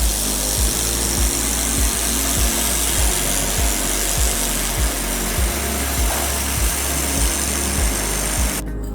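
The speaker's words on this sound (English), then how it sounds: "Welding thicker stainless steel three-way pipes is very easy." Air-cooled laser welding machine joining a thick stainless steel three-way pipe, giving a steady loud mechanical hum with regular low pulses repeating about every half second throughout.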